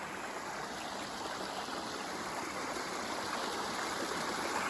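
A creek and a spring merge in a garden, giving a steady, close, full rushing of flowing water that continues evenly with no voices over it.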